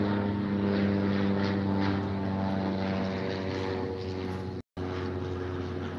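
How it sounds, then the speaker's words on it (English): Propeller airplane droning overhead above farmland, a loud sustained engine hum with steady harmonic tones that holds, then eases slightly, cut by a brief dropout near the end. "There goes a plane."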